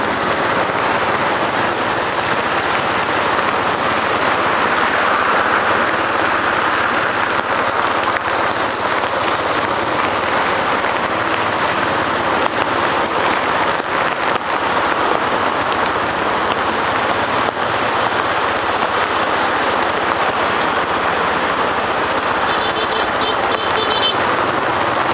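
Heavy, steady rain pours over a Saigon street market as vendors pack up for the day, a dense, constant hiss and patter filling the whole stretch without letup.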